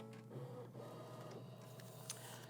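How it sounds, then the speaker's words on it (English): A Brother Aveneer EV1 sewing and embroidery machine runs its built-in camera scan across a scan board, giving a steady, close mechanical hum with faint whirring and a brief click near the end. "what it's doing is the built-in camera, which is located underneath here by the presser foot, is going to scan this entire board"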